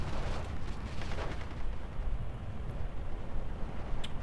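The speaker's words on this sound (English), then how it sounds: "Sadly, the mortars are targeting the Shermans, which is depressing." Mortar and artillery fire rumbles through a World War II tank game battle, a continuous loud low roar of distant blasts with a few sharper cracks on top.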